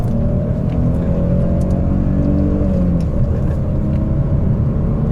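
A Peugeot 407 Coupé V6 with a six-speed manual gearbox drones loudly and steadily from inside the cabin, its engine note shifting slightly as it revs during a downshift, with no talk.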